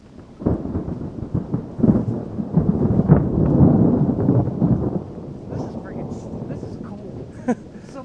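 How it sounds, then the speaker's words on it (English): Thunder rumbles through a storm on a rocky mountain scramble, a deep rolling roar building over several seconds and then easing into a lower rumble, with people talking nearby. "thunder."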